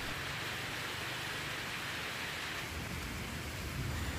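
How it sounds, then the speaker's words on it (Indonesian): Heavy rain with strong wind and thunder over Sampit in East Kotawaringin, Indonesia, heard as a dense, loud, unbroken roar of downpour with deep rumbling underneath, no voices. "Hujan deras disertai angin kencang serta kilat atau petir Kamis sore mengguyur wilayah Kabupaten Kota Waringin Timur termasuk Kota Sampit."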